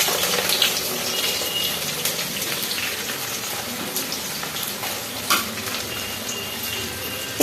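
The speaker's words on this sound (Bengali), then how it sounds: "আমার কাটা পেঁয়াজগুলো আমি এর মধ্যে সব দিয়ে দিচ্ছি।" Chopped onions hit hot mustard oil and fry with a steady, dense sizzle, a few faint stirring clicks and scrapes rising briefly above the continuous crackle.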